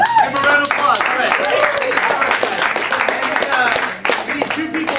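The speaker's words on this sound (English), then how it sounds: "Give them a round of applause." An audience at a pub comedy and improv show applauds steadily for about five seconds, with clapping and voices mixed in throughout.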